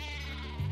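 A cartoon sheep bleats in the Worms Revolution video game, a short, close, loud bleat with a rising tail, alone and without talk over it.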